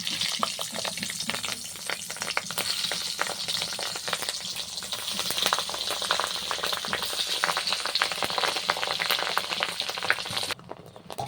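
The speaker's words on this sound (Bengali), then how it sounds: "এরপর পুর ভরা পটলটা আমি ভেজে নিব" Stuffed pointed gourd, filled with fish roe, fries in hot oil with a dense, continuous close sizzle and bubbling, plus occasional light stirring taps, steady to the end with no talking.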